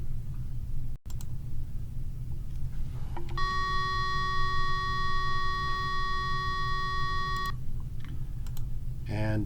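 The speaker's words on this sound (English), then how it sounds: "This is the fire alarm." A steady electronic fire alarm tone sounds for about four seconds over a constant low hum, with a few faint clicks before and after.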